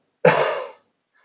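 A single short cough, close and fairly loud, with a breathy burst that fades quickly into silence.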